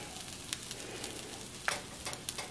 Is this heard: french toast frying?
yes